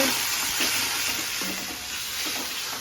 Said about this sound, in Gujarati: વઘાર કરી નાખ્યો છે.